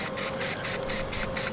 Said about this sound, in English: I kind of stand back a little bit more with the spray can.